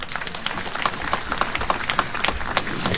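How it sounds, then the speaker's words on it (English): Audience clapping steadily at a university graduation ceremony in Nairobi, with dense overlapping applause from a large crowd sustained throughout. "Let us give our Prime Cabinet Secretary a better clap."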